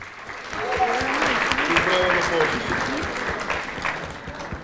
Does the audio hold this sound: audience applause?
yes